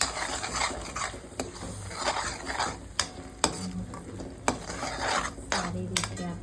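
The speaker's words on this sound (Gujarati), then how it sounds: "હવે એમાં આપણે પેસ્ટ મસાલા એડ કરીશું" Spice paste goes into a tomato gravy for palak paneer and is stirred through it in a pan, giving steady sizzling with sharp spoon clinks against the metal every second or so.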